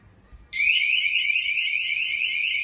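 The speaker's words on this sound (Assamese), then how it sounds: "মই ৰুমত সোমোৱাৰ লগে লগে এলাৰ্মটো বাজিছে" An anti-theft motion alarm suddenly starts ringing in a room, giving a loud, piercing, rapidly warbling electronic siren that runs steadily and close by without a break.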